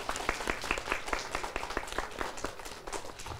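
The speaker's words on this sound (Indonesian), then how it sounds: "Beri tepuk tangan yang meriah." An audience at a kindergarten children's idol show in Singaraja claps steadily throughout, a soft, somewhat distant patter of many hands with no voices over it.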